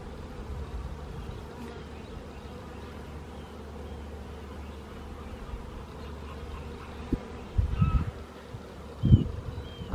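Honey bees buzz steadily around a garden hive, a dense close drone of many insects with a few louder passes near the end.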